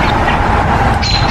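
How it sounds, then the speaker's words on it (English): A mother bird calling near her fallen baby in an outdoor courtyard, a faint thin chirp rising late in the clip over a loud steady wash of background noise. "You can probably hear another bird in the background."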